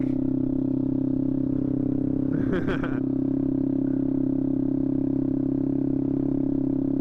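A 2018 Honda Grom motorcycle being ridden, its engine a steady loud drone throughout with a brief clattering burst near the middle, close to the microphone.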